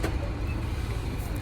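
A tour bus in Peru carries passengers up toward Machu Picchu, its engine and road rumble a steady, loud drone heard from inside the cabin with no breaks.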